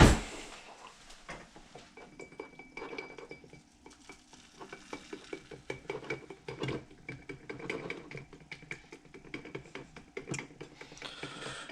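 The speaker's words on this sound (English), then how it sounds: "whisk." Lemon juice is whisked into an emulsion for a speckled trout catch-and-cook dish, a busy run of quick metallic clicks and scraping taps against a bowl, fairly faint and irregular, with no talking.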